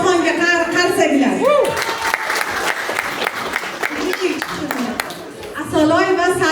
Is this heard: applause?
yes